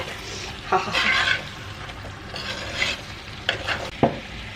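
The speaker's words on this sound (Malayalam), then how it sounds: "അരപ്പ് ഇതിലേക്ക് ചേർത്ത് കൊടുത്തതും ഈ ചിക്കനും കൂടി അങ്ങ് ഇളക്കുക." Chicken coated in ground roasted masala paste is stirred in a pan, giving a steady sizzle with scraping spoon strokes and a few sharper clinks of utensil against the pan.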